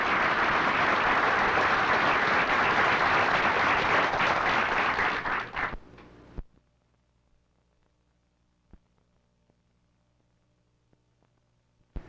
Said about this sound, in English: let's give them both a nice hand, boys